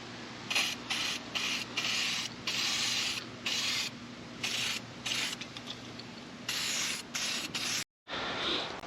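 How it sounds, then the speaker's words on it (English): Aerosol lube sprayed in repeated bursts onto a dry Harley Dyna motorcycle chain, a steady hiss over a low engine or compressor hum with short pauses between sprays. "This chain's pretty dry. We're going to lube that up as well."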